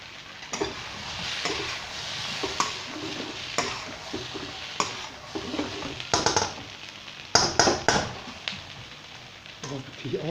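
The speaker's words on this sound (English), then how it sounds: "I love that sizzling noise." Chicken being stir-fried in a pan for sweet and sour chicken: a steady sizzle with repeated scraping and clattering of a utensil against the pan, loud and close, with occasional speech over it.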